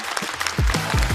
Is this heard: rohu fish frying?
no